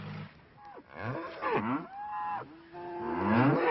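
Several cows in an alpine pasture moo loudly and close by, a series of long drawn-out calls with rising and falling pitch, one after another with short gaps.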